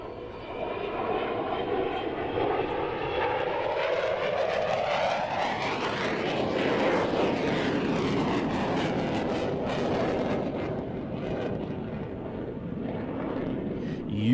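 Boeing 747 jumbo jet engines of an Airbridge Cargo freighter powering up: a loud, steadily rising turbine whine with sweeping tones and a heavy roar building over the whole stretch.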